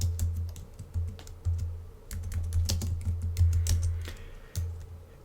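Keys on a computer keyboard are typed while programming projectiles in Processing, with quick bursts of close clicking separated by short pauses and steady low hum beneath.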